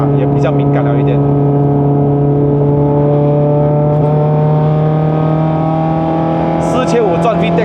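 A Honda Civic Type R FN2 with a K24 engine runs at steady high revs with VTEC engaged around 4500 rpm, a loud close drone with strong harmonic layers and faint voices at moments.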